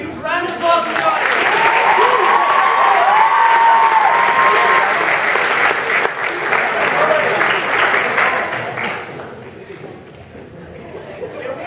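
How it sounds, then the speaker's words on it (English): Sustained applause from an audience at a talent show, loud and dense for about nine seconds with cheering and chatter mixed in before tapering off. "to a huge round of applause for the audience"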